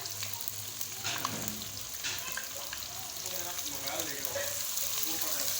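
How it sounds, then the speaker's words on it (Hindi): Sliced onions fry with spices in a pan for beef korma, giving a steady close sizzle and crackle throughout with occasional stirring scrapes. "अब इसको फ्राई करेंगे हम प्याज को।"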